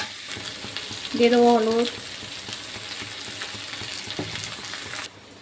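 Ginger-garlic paste sizzles in hot oil with bitter gourd as it is stirred in a pan, giving a steady frying hiss and occasional scrapes, while someone speaks briefly over it.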